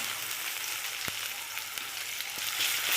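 Spiced potato curry being sautéed in a pan with chili powder, coriander, turmeric and ginger: a steady, soft sizzle and hiss, with a couple of faint clicks of stirring.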